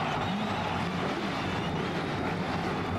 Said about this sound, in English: Listen to these cars roar.